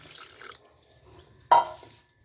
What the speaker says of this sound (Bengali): এইভাবে একটু জল দিয়ে ছানাটাকে আমি ধুয়ে নিয়ে